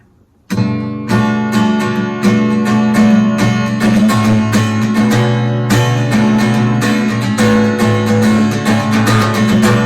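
A guitar chord from a song strummed repeatedly with ringing open strings, steady rhythmic strokes, loud and up close with no voices.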